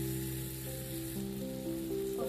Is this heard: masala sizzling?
yes